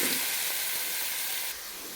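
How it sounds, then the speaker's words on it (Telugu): Grated carrot fries in ghee for carrot halwa, a steady, close, hissing sizzle that fills the short moment without any talk. "క్యారెట్ తురుము అయితే మనము ఈ నెయ్యిలో అయితే ఫ్రై చేసుకున్నాము"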